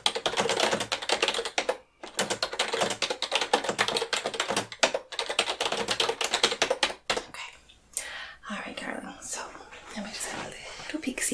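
Soft, close keyboard typing runs in dense, steady bursts with a couple of short breaks, and a whispering voice joins near the end, in a calm clinical exam-room setting.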